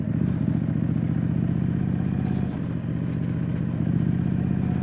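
Street scrambler motorcycle ridden off-road across a sandy beach, its mid-pitched engine droning steadily and close throughout, with a brief dip in the middle and some clatter over the top.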